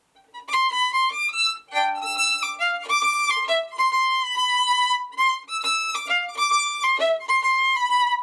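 A violin plays a quick run of notes with an uneven long-short lilt, clear and close with no talking.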